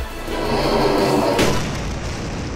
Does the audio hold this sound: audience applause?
no